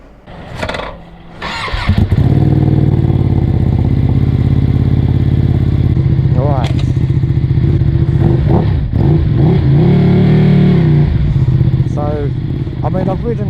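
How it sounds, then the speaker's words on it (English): A Ducati Streetfighter V2 with a full Akrapovic exhaust system starts and settles into a deep, throbbing idle with occasional revs, close and loud; someone speaks briefly over it. "With the exhaust on them, they just sound so cool."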